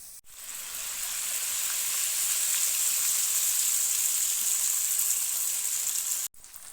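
Semiya (vermicelli) frying in hot oil until crisp, giving a steady, loud, bright sizzle that lasts several seconds without a break before it cuts off abruptly and then resumes.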